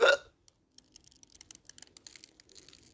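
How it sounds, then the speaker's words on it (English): A single sharp hiccup sounds loudly at the very start, then gives way to a quiet run of light computer keyboard typing clicks. "I just have hiccups."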